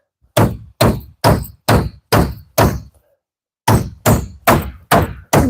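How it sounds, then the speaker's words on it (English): Hammer blows struck in a cramped spot while building a micronation capital building, close and loud: six sharp thunks in a steady rhythm, a brief pause, then five more, with no talking. "Horrible hammering technique, by the way,"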